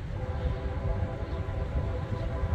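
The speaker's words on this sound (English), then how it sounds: "There's a train coming." A train passes at a distance near a yard, a low continuous rumble over gusting outdoor wind with no speech.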